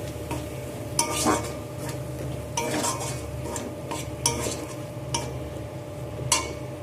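Spice paste stir-fried in a pan for a banana-flower and mung dal curry, repeated spatula scrapes and metallic clinks every second or so over a steady low sizzle, close by and unaccompanied by voices.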